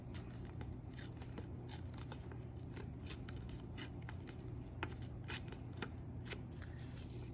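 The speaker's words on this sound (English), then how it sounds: "And then tear on the center crease." A square of paper is torn by hand along its center crease, giving a close, soft crackling and ripping texture made of rapid small tears over a steady low background hum.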